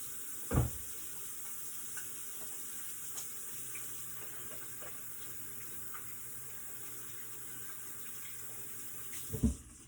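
A kitchen tap runs with a faint, steady hiss of water while hands are washed during cooking. A couple of soft clunks sound near the start and again at the end.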